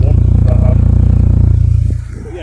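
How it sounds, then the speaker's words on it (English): A 1996 VW Golf Mk3 SE petrol engine idles close by with a steady low, even throb, its rhythmic pulses holding constant before dropping slightly in level near the end, with no talking over it. "It's idling very nicely, actually"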